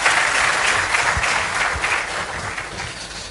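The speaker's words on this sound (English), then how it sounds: "Another round of applause for our Foreign Service." Loud, sustained applause from a large audience at Ghana's Ambassadors Conference, continuous clapping with a few low thumps underneath.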